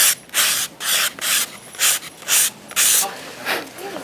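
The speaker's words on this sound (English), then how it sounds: "I can just come through and just sand that, working along until we've got rid of it." Hand sanding across rough paintwork, a series of loud, rhythmic abrasive strokes repeating about twice per second, close and dry, with short pauses between passes.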